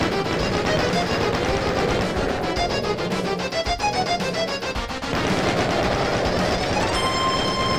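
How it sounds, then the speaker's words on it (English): Shotgun-wielding enemies firing at the player in Ultimate Doom, dense rapid gunfire blasts layered over loud, driving game music, continuous throughout with a brief dip midway. "we come out here and have a bunch of shotgun guys shoot at us"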